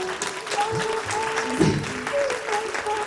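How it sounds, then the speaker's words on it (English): Guests clap at a baby shower, a steady patter of applause with a few voices chattering over it. "let's give a round of applause to Sheila"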